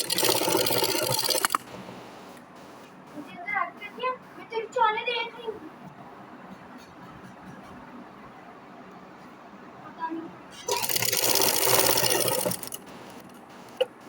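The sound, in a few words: sewing machine stitching fabric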